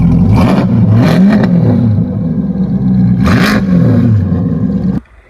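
A Chevrolet Corvette C8's exhaust, fitted with 2M Fabrication catalytic converters and a Corsa Extreme X-pipe, roars and revs up and down in repeated surges, loud and close, then cuts off abruptly near the end.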